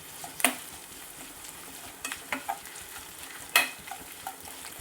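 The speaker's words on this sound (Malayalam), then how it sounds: "അതുവരെ നമുക്ക് ലോ ടു മീഡിയം ഫ്ലെയിമിലിട്ട് നന്നായിട്ട് ഇതൊന്ന് ഇളക്കി കൊടുക്കാം." Garlic and small green chillies fry gently over a low-to-medium flame for a mango pickle, a soft steady sizzle under a few sharp spatula scrapes and taps against the pan, close and without talk.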